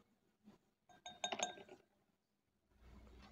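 A metal spoon clinks against a drinking glass while a spoonful of baking soda goes in for homemade soda, a quick cluster of bright ringing taps near the middle, with faint handling noise before and a low rumble after.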